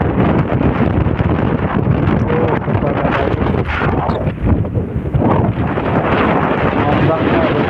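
Large waves and strong wind at Seger Beach in Mandalika, Lombok, make a continuous loud roaring wash with heavy wind buffeting on the microphone.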